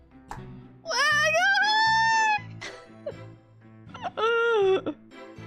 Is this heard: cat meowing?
yes